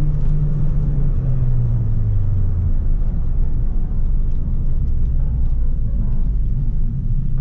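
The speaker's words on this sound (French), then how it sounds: "Et puis elle monte bien, elle monte vraiment à 6000 tours minutes" An Opel Vectra GTS engine revs up hard toward 6000 rpm, a loud, steady, close rumbling drone whose pitch climbs and sweeps through the gears while the car drives along a road.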